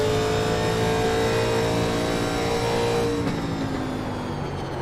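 A 1987 NASCAR Legends car engine held on throttle at Darlington in iRacing, a steady, loud, buzzing mid-pitched drone with a slight pitch shift partway through, no voices.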